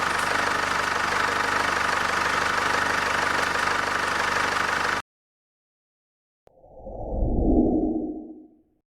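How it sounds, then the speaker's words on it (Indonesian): Chevrolet Trailblazer LTZ with a 2.8-litre 4x4 diesel engine running, a steady close rumble with a clattering diesel knock for about five seconds, followed by silence and then a brief low whooshing swell. "Mesin dari mobil Chevrolet Trailblazer"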